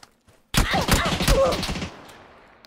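A rapid burst of automatic gunfire from PUBG play on the snowy Vikendi map, a dense volley of sharp close shots lasting just over a second and then fading into a trailing echo.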